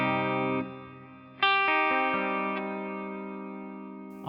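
Electric guitar played through an IK ToneX amp model with plate reverb, sustained chords struck a few times and ringing out into a long, smooth reverb tail, loud and close with no talking.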